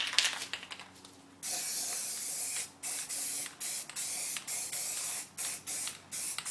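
A spray paint can hisses blue paint onto wooden planks, one long burst followed by a run of short, evenly spaced sprays, close and clear.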